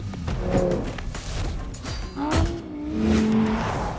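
Lamborghini Huracán Sterrato driving hard, its engine droning steadily with a sharp tire squeal rising midway and a second squealing stretch near the end, close and fairly loud.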